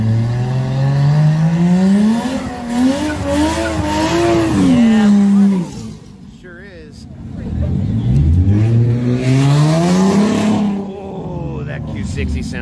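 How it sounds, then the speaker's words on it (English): Infiniti Q60 in a drag race, engine revving hard through rising and falling gear sweeps, loud and close, with a second pass building later; people talk over it. "Oh, that Q60 sounds good too."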